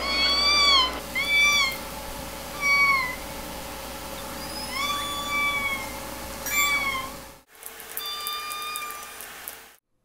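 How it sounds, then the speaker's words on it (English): Southern resident killer whale K pod calls ring out as a string of high-pitched, kitten-like squeals and upsweeping whistles, repeated in short bursts over faint underwater hiss, with a brief silent gap before more calls. "KPod is distinct in that many of their vocalizations are higher pitched, making them sound like kittens, especially with their S16 and S17 vocalizations."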